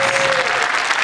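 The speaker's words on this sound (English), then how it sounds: "a wonderful applause for our leader" An audience at a live spring performance event claps in a dense, steady burst of applause throughout.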